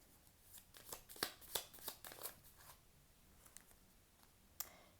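Tarot cards shuffled by hand close up, a quiet series of crisp riffling flicks and slaps in uneven bursts, with no talking.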